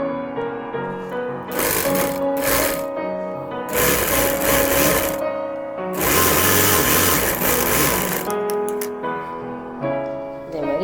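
An electric sewing machine stitches the side seam of a V-neck petticoat in several loud bursts of rapid whirring, separated by short pauses, with no talk over it.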